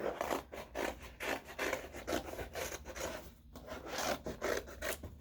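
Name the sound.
scissors cutting out a cardboard shape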